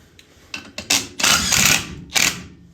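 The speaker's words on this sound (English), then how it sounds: "you can go in with an impact." An impact wrench on a 1985 Chevy C20 disc brake job fires off a few short mechanical bursts, then one long buzzing run, then a final short burst, loud and close.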